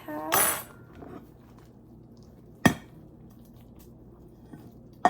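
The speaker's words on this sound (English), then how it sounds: "I want to get a nice gooey cut of this and scoop it up onto the plate that I have" Utensil cutting into and scooping baked spinach artichoke dip with yogurt onto a plate: a clattering scrape near the start, then a sharp clink of metal on the dish midway and another at the end, close and clear.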